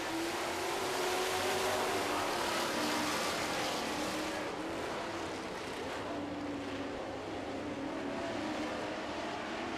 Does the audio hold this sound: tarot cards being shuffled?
no